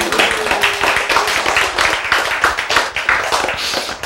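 Hands clap in a loud, fast, uneven patter of sharp claps that runs steadily through the whole stretch, close and alone with no talking, as a lecture audience would applaud.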